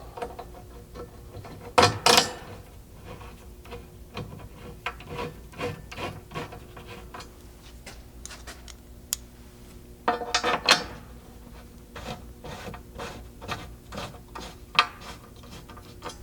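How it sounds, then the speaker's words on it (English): Button head bolts being threaded into a Bronco gas tank skid plate: scattered mechanical clicks and rubbing scrapes with a few louder ratcheting bursts, close up and without talk. "begin installing 2 3/8 button head bolts"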